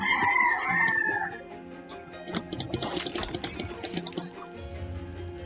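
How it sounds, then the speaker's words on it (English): A rooster crows in the distance, followed by a burst of rapid keyboard typing close by; no one speaks. "I'm hearing a rooster."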